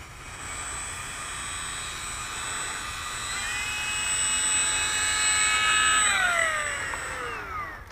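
An electric E-Flite F4U-4 Corsair radio-controlled plane taxis on the ground, its motor whining in a steady high-pitched tone that swells, then drops in pitch as the motor winds down, heard from a short distance outdoors.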